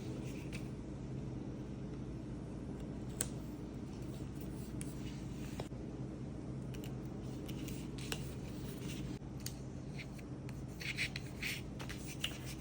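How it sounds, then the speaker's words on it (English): Tape is pressed and rubbed along the back of joined cardboard sheets, giving soft scattered crinkles, scrapes and faint taps over a low room rumble, close and quiet. "we're going to tape the back, like I said, to make it one big sheet and to secure it all together"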